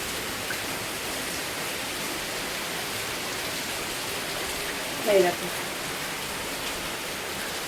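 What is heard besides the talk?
rain falling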